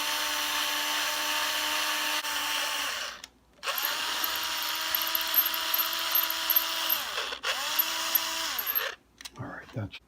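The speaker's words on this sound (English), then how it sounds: "Oh hell, we might as well drill them. We got the drill here, huh?" A power drill whirs in three long bursts while drilling holes in an Epiphone SG guitar, each winding down with a falling pitch, separated by short pauses and a final clunk.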